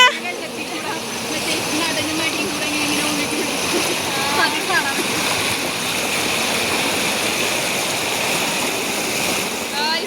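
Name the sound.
small waterfall and stream flowing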